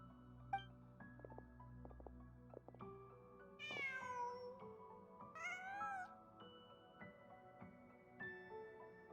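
A cat in the video game Genshin Impact meows twice in distinct calls, close and clear, over soft ambient game music with scattered tonal notes and no voices.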